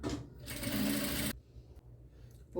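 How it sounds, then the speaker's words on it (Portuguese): A sewing machine stitches a seam on a fabric eco bag in a close, fast whirring burst that stops abruptly, followed by quieter handling sounds. "Vou passar mais uma costura,"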